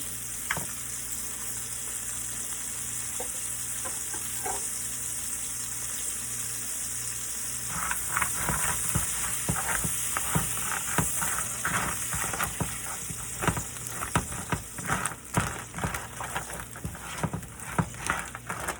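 Blue crab legs sizzle steadily in a hot pan, the frying building up around eight seconds in and then running on with busy crackles and sharp pops close by, with no one talking.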